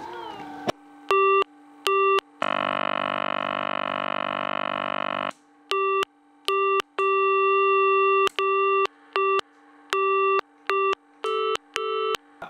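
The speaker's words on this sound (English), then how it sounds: "you can plug that in to test all of the dial tones coming from the ringer" Dial and signal tones from a Strowger mechanical telephone exchange ringer: clean electronic beeps pulse in an even on-off rhythm, broken by one long continuous tone, loud and close with no talking.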